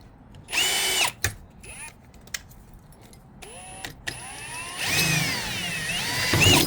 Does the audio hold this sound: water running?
no